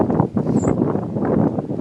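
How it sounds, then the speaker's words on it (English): Gusty outdoor wind buffets the microphone with a steady low roar and uneven surges. "It's crazy how it got windy"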